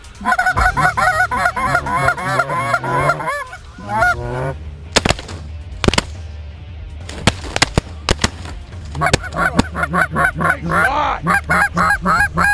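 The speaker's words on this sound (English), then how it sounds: "we got 2 honkers coming at us straight ahead" Canada geese honk repeatedly as they fly in during a northern Minnesota hunt, a loud chorus of nasal calls broken mid-way by several sharp shotgun blasts, then more honking resumes nearby.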